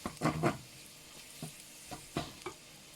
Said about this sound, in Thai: นี่พริกเผาใส่แล้ว ผัดพริกเผาให้